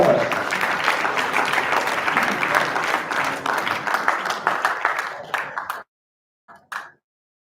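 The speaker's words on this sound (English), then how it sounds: "a huge round of applause for all these toppers." Audience applause for award toppers at a medical society ceremony, a dense sustained burst of many hands clapping that thins out and stops, followed by a brief scattered clap.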